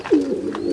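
A single pigeon, one of a breeder's Sambhal kaldume birds, gives a short, throaty coo close by, with a faint second murmur following.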